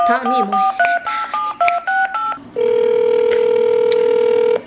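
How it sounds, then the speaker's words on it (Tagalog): A phone dials a call, giving a quick run of loud keypad tones in short, evenly spaced beeps, then a long steady ringback tone follows. "So yun, tawagan natin si Tamimoy"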